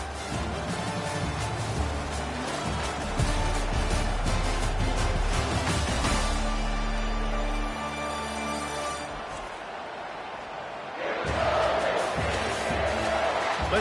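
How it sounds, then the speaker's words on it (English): A stadium crowd roars in an NCAA football video game, a steady dense wash of noise that shifts and swells partway through, with a brief thinner stretch before surging again near the end. "This crowd bringing the energy and noise early."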